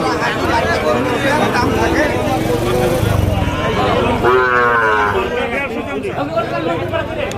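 Sahiwal and local cross cattle at a busy livestock market in Dinajpur let out a drawn-out moo partway through, amid constant crowd chatter and nearby talk.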